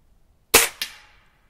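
Two sharp, close cracks from a Gamo CFX .22 air rifle firing, the second a quarter second after the first, each with a short fading tail, in an otherwise quiet setting.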